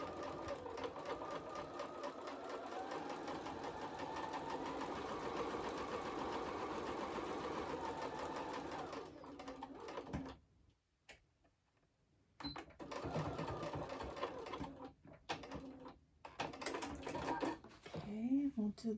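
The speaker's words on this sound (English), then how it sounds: "Just do a little top stitch." A sewing machine top stitching close to the folded edge of fabric for a wallet case, a fast steady rattling run that pauses briefly and then restarts in shorter bursts, quiet and close.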